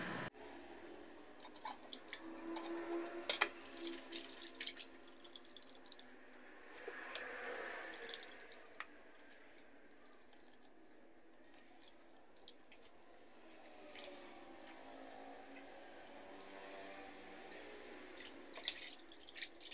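Cleaned, gutted anchovies are rinsed in water, giving faint, scattered drips, splashes and squishy handling sounds against a quiet background, with a few sharper clinks at times.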